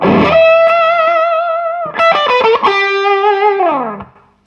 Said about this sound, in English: it really sounds like a kind of power amp working really hard